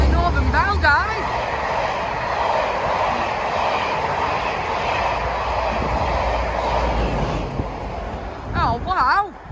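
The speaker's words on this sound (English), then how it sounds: "I didn't know that it was going to be a Class 57." Northern Belle charter train hauled by a Class 57 diesel locomotive passing through Adlington station, a loud sustained rumble and roar of engine and carriages close by, with a horn-like tone at the start and end and voices over it.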